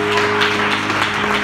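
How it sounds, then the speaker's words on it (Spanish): A church congregation at a Spanish-language worship service applauds loudly, a dense, sustained wash of clapping with a steady held tone running underneath. "Den un aplauso fuerte."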